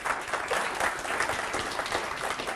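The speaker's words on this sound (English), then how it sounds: "nice round of applause" A live audience at a hypnosis demonstration gives a steady round of applause, dense clapping close by that continues evenly through the whole stretch with no talking.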